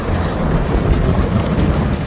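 Strong wind on open water aboard a shanty boat buffets the microphone in a steady, loud rumbling roar with no other sounds.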